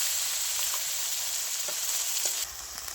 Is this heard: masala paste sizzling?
yes